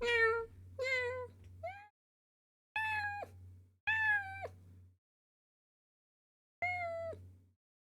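A person imitates a cat with drawn-out meows, five close, clear calls spaced by short silences, each rising then falling in pitch.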